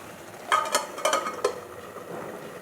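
Bottle gourd greens are stirred and mixed in a pan with a few scraping, clattering strokes of a utensil over a soft background sizzle, close and moderately loud, with no talk.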